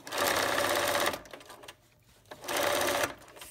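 A sewing machine runs close and loud while stitching a fabric face mask, two steady buzzing bursts of about a second each with a short pause between them.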